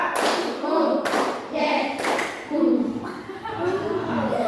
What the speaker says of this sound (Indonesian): Tepuk satu, tepuk dua, tepuk tiga, tepuk satu, dua, tiga.